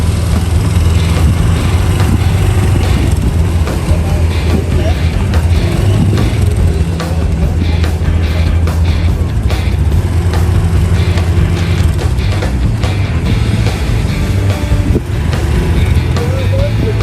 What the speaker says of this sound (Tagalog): Ay, may motor, ah.